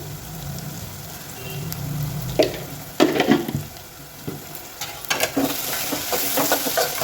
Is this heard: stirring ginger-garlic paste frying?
yes